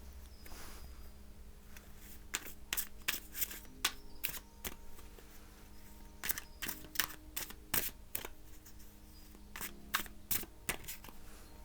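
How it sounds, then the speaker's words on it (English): Cards from a Green Man Tarot deck being pulled and handled, producing repeated sharp flicking and snapping sounds in quick clusters, close and fairly quiet, with no voices. "Let me pull a couple other cards just for clarification on this yes answer."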